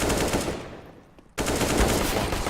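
Gunfire rattles in a Counter-Strike match: dense bursts of rapid shots, dropping away for a brief lull before another loud volley resumes.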